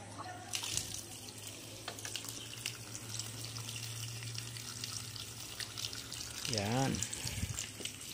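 Water gushing from a pipe into a fish hatchery tank, a steady rushing flow under intermittent nearby voices, with a brief splashing surge toward the end.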